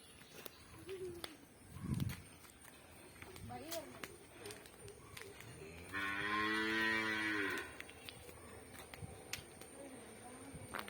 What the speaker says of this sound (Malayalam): പശു പറയുന്നു.